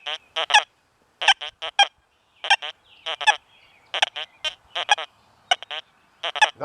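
Deus 2 metal detector emitting a garbled, chattering signal while sweeping over a coin with can slaw and a nail, giving short honking bursts in irregular clusters separated by silence, clear and close.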